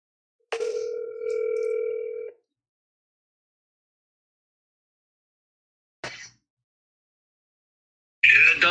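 A telephone dial tone sounds for about two seconds, then silence, followed by brief clicks and line noise as a call connects.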